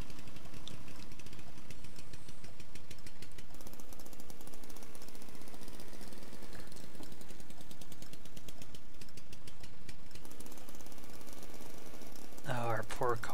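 A car engine runs steadily in the driving game Jalopy, a rattly, buzzing drone that holds for a long stretch at moderate volume with some chatter over it.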